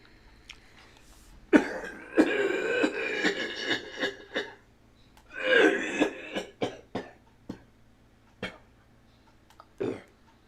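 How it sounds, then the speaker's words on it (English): A man coughs close to the mic in two rough, drawn-out fits with throat clearing, followed by a few short scattered coughs and clicks in an otherwise quiet room. "I'm coughing"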